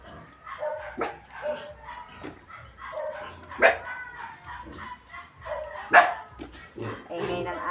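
A neighbor's dog barks and yips in short bursts, moderately close, with people talking over and between the barks.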